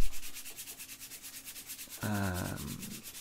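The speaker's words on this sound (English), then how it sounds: "Right, let's get some sandpaper on it." Hand sanding with a strip of old belt sander belt used as sandpaper on forged metal for a farrier's knife, quiet rhythmic rubbing strokes ending in a short, louder scraping pass.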